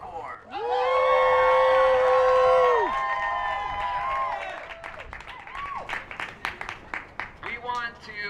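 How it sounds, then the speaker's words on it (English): At an outdoor patriotic rally, a crowd greets a fife and drum corps with drawn-out whoops and cheers, then scattered hand claps and shouts that grow sparser toward the end. "We celebrate by applause the Mountain Fife and Drum Corps"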